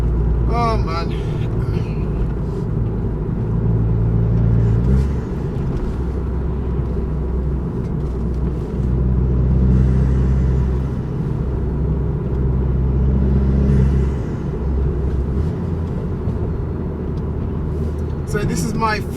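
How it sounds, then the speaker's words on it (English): A forged-engine, front-wheel-drive Vauxhall Corsa VXR on its first drive after break-in, heard from inside the car: a loud, continuous engine rumble that builds as it accelerates, with a voice talking over it. "basically putting my foot down a bit since I've got the car forged"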